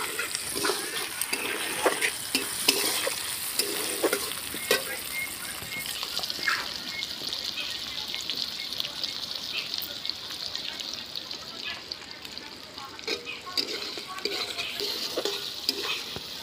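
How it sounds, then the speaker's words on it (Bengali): Chopped onions, 150 grams, fry in a pan over whole five-spice seasoning, a soft steady sizzle with occasional stirring scrapes, fairly quiet and close. "পেঁয়াজটাকে আমি একটু ভেজে নেব"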